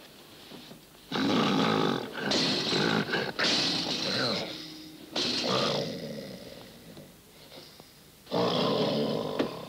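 A person snores loudly in repeated rough, rattling inspiratory bursts, about five long snores separated by short quiet pauses, close and prominent.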